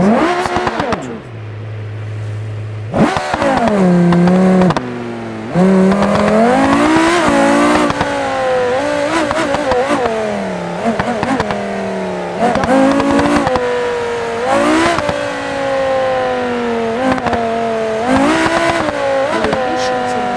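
A powerful car in a video game revs hard and drifts, its engine note climbing and falling in repeated sweeps with tire noise. The sound is loud and continuous, with a voice talking over it at times.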